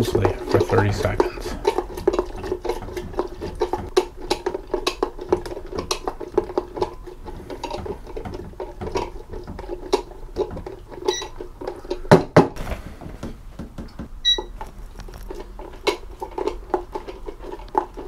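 Film developing tank agitated by hand for Adox HR-50 film, rapid irregular clicks and rattles of plastic and sloshing liquid repeating for about eighteen seconds, close and moderately loud.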